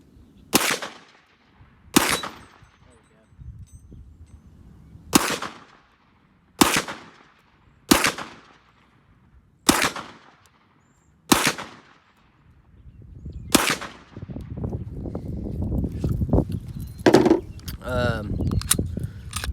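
A Glock 40 MOS 10mm pistol fires eight sharp, evenly spaced shots at an outdoor range, each crack ringing out loud and close, followed by a stretch of clattering handling noise with a voice speaking.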